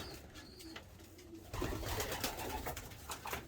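Racing pigeons coo softly in their loft, a few low murmuring calls over a steady background hum that grows a little louder partway through.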